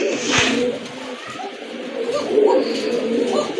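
A pair of red Rajgolla pigeons coo in low rolling phrases close by, with a person's voice partly mixed in and light rustling around them.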